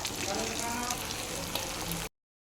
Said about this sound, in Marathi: दोन्ही साईडने याला हलकंसं परतून घेऊ या वाफेवर शिजलेल्या असल्यामुळे या लवकरच तेलामध्ये परतल्या जातात